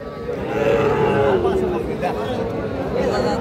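A heifer calf moos in a drawn-out call amid the chatter and hubbub of a busy crowd at Aftabganj cattle market, with people talking throughout.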